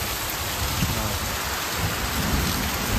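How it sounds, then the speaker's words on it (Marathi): Heavy monsoon rain pouring down in Konkan during a thunderstorm, a loud, unbroken roar of rainfall with deep rumbling thunder underneath throughout, no speech. "पाऊस बघा केवढा मोठ्याने पडतोय."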